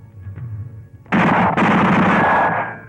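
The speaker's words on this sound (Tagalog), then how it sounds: "Putok yun ah!" Gunfire in a film: after a quiet opening with low background rumble, a loud, dense burst of rapid shots erupts, briefly breaks, then rattles on steadily to the end.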